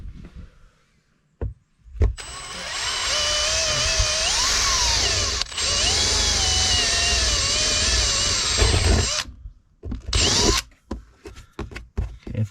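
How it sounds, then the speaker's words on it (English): A power drill whines loudly at high speed for several seconds, pauses briefly, runs again, then stops with a few short bursts and clicks, drilling wire holes in a caravan. "I just got to drill out 2 holes for the wires to come through"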